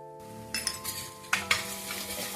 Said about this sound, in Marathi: नंतर आपण ते चांगले परतून घेऊ